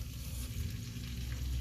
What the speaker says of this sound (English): So I hope you can hear the sizzle.